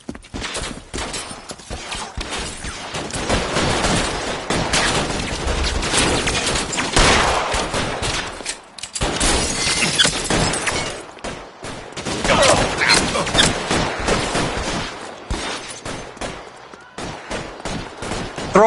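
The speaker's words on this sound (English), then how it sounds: "Bullets start flying, and they snatch up the guns and one of the cops" Gunfight in L.A. Noire, rapid loud bursts of gunfire crackling close by in waves, with brief lulls between volleys.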